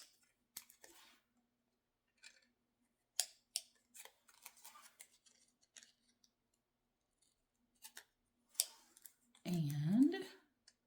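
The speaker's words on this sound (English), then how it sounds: "So I'm going to cut off that excess." Scissors snip excess paper from a handmade Valentine waterfall greeting card, a few quiet crisp cuts scattered across the stretch, ending in a louder rasping cut near the close.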